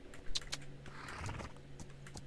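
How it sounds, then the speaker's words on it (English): A horse in the video game City of Agricola – Star Equestrian gives a short whinny over faint game ambience, with a few soft clicks around it. "there is a horse"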